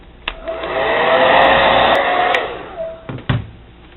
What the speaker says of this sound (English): Use the hair dryer to get a nice tight seam on the top.